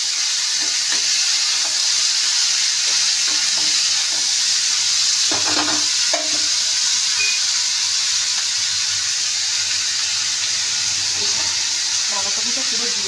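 Shredded cabbage frying in a pan, a loud, constant sizzle with brief stirring clatters and scrapes, and a voice speaking occasionally over it.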